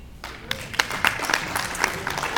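A comedy show audience breaks into applause, sustained clapping from a crowd at moderate distance that carries on throughout.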